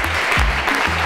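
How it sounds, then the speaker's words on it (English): A burst of hackathon audience applause at the closing of the event, dense clapping with a voice faintly over it, short and fairly loud. "Give yourselves a big round of applause"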